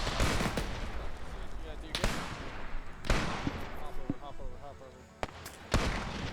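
Grenades burst during a Korean War video game airfield assault, with heavy blasts and sharp cracks landing amid constant rattling gunfire in a dense, loud battle din.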